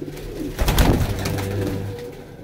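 Pigeons cooing nearby, a soft low rolling coo swelling and fading over a couple of seconds against a quiet background hum.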